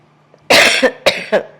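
A harsh cough followed by two more shorter coughs, close and loud, with a brief pause between them.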